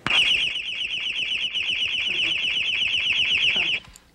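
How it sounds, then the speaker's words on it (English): An electronic security alarm, set off by a simulated break-in noise, blares close and loud as a rapid warbling, pulsing tone that repeats steadily for several seconds before cutting off abruptly. "I'll simulate a breaking and entering type sound."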